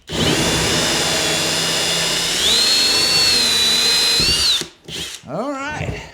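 Hole saw on a power drill cutting a conduit hole through a wall for an off-grid solar battery build, a loud continuous whine that rises in pitch, then stops with a few short spin-downs.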